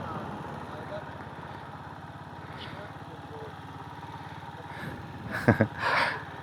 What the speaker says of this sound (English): does the engine sound normally to you?